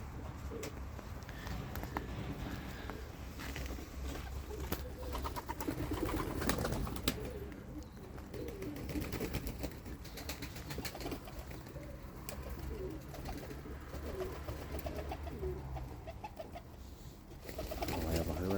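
Pigeons coo repeatedly in a low, throaty chorus inside a coop, with occasional rustling and wing flutters in the enclosed space.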